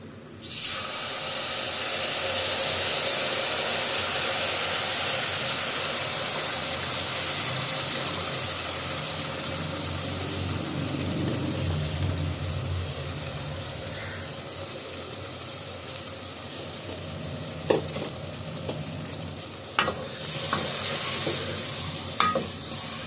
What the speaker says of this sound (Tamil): நல்லா கரைச்சி வச்சுருக்க புளியை ஊற்றிக்கலாம்.